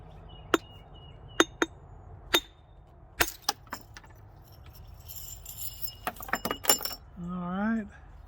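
A flint blade being trimmed by flaking gives a series of sharp, isolated clicks and taps, some spaced apart and some in quick clusters, fairly faint in an otherwise quiet space, with a brief tonal sound at the end.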